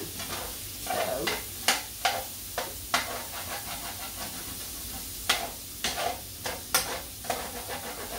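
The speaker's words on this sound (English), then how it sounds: "just let the sausage cook" Sausage frying in a pan, a constant close sizzle broken by repeated sharp scrapes and clacks of a utensil stirring, no talk.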